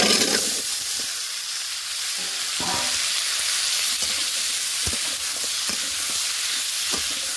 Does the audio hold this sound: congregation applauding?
no